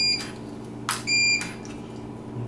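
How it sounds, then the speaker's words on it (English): An RFID key card door lock gives two quick double beeps, bright electronic tones close by, separated by a short pause over a steady low background hum. "Double beep, double beep, and they're both canceled."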